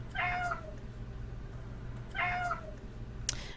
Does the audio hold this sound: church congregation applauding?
no